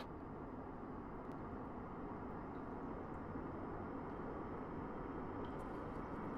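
A distant airplane passes overhead in the shooter game Tarkov, a faint, steady broadband drone that stays even throughout with no talking.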